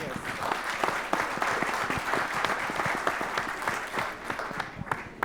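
Audience applause at a national coffee growers' congress panel, a dense, steady wash of many hands clapping throughout, fairly close and sustained with no voices over it.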